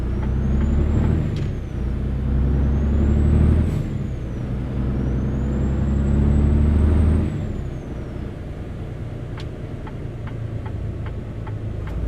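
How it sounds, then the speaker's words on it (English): A heavy truck engine rumbles steadily in a truck-driving video game while short hissing air-brake releases sound, followed by a run of evenly spaced ticking clicks near the end. "This truck doesn't have a bad sound to it."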